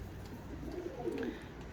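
A pigeon coos once, softly, in a quiet indoor setting with low background hum.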